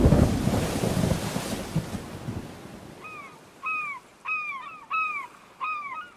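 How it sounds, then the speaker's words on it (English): A thunder sound effect for a storm at sea: a loud, broad rumble fills the first three seconds and fades, then a bird calls four times in a repeating series of sharp, clear squawks. "Liedenbrock feels bad because there's a storm at sea."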